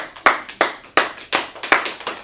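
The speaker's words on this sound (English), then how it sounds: "Let's clap it up then." A small group claps together in slow unison during a meeting, about seven crisp, loud claps spaced roughly a third of a second apart, each with a short decaying tail, no talking.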